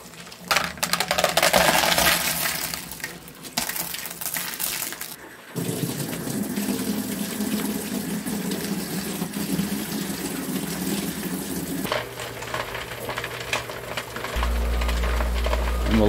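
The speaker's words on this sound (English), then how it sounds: "Now we're gonna take them over to the sink and rinse them off." Tap water runs steadily into a sink as Lot-O tumbler barrels are rinsed, a continuous close wash with shifting splashes and clunks as the barrels are handled, shifting tone partway through, with no talk.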